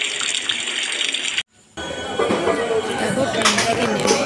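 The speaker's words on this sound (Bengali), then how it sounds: "দেখো কত জোরে বৃষ্টি হচ্ছে" Heavy rain pours down in a broad, steady hiss that briefly cuts out and then resumes just as strong, with wind and storm conditions noted, near and continuous.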